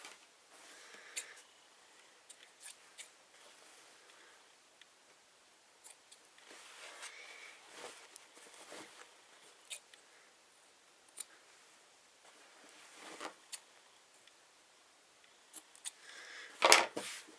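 Scissors snip loose thread ends on a sewn fabric retreat bag, a scattered run of small, quiet clicks and cuts over a faint background hush, with a sharper cluster of snips near the end.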